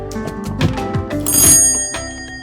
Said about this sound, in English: This is our cool doorbell.